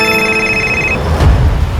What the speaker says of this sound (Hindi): इसी वक्त एक फोन आना था,